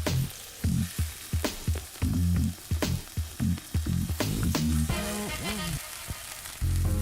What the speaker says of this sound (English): We are going to gently fry the onions.